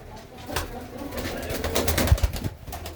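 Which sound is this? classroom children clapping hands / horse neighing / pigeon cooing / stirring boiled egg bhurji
pigeon cooing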